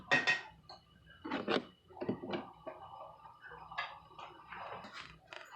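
A plate and dishes being handled while noodles are served, with scattered quiet clinks, taps and knocks of ceramic and utensils in a close, quiet room.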